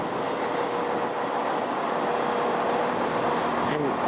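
A fuelled-up train's engine idles at a London Marylebone Station platform with a steady low rumble and hum, broken briefly near the end by a faint squeal.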